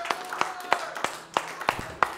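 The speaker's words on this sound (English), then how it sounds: "Let's give him a great hand clap" Congregation clapping in a church worship service: a steady, rhythmic hand clap at roughly three beats per second, moderately loud and close, with faint sustained music or voices underneath.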